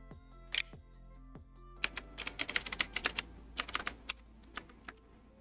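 A computer keyboard is typed on in irregular bursts of crisp key clicks, close and clear, with a faint steady background hum.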